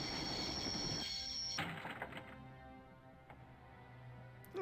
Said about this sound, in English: I always wanted to stop the train.